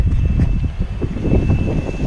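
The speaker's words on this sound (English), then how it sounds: "It's kind of windy out here." Gusty wind buffets the microphone outdoors on an RV roof during a MaxxAir fan installation, a rumbling, uneven roar with a faint steady tone above it.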